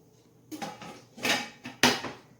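Pans clank and knock on a stovetop in three or four separate bursts, metal rattling close by, the last clatter the loudest, with no talking.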